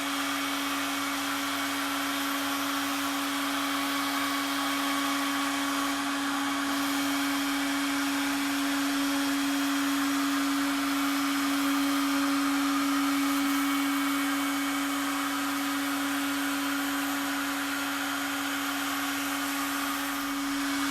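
A CNC router cuts thin plywood while building a wooden advent calendar chalet, a steady, loud machine whine with a constant tone running unbroken throughout.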